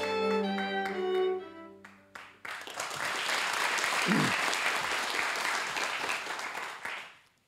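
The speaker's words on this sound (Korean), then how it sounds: "큰 박수로 환영해 주세요." Brief ceremonial music gives way to loud, sustained audience applause at the 2014 Hanbit Awards ceremony co-hosted by Daejeon MBC, the clapping swelling across the hall for several seconds before fading out.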